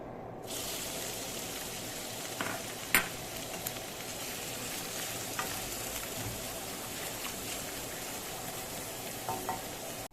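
Onions and colored peppers fry in a pan with a steady close sizzle and occasional stirring clinks and scrapes, with no talk.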